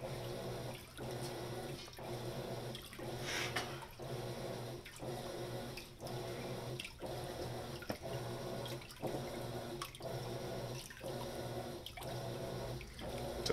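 Water runs into a Whirlpool WTW5000DW top-load washer filling for a quick wash cycle with a mop head inside: a faint, steady rush broken by regular soft pulses.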